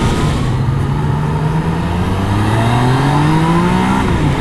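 A Yamaha MT-09 motorcycle engine, ridden on the road, revs up loud and close with rising harmonic whine climbing steadily, then briefly drops before climbing again, with constant wind rush and no talk.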